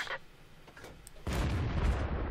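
Tank cannon firing premium rounds in World of Tanks, heard as a heavy boom that cuts in midway and continues as a loud, dense rumbling blast, with a faint earlier thump.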